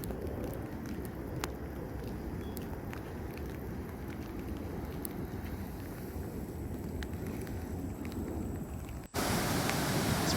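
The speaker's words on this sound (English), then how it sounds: "It's pretty noisy down there with all the waves." Ocean surf at Bondi Beach on a rainy day roars as a steady, loud wash of breaking waves. Wind rumbles into the microphone throughout, and the noise jumps sharply louder near the end.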